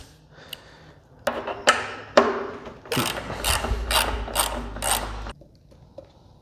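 A hand ratchet works loose two bolts on a Yamaha FZ-09 motorcycle, giving close, sharp clicking bursts and short pawl runs, followed by quiet handling noises.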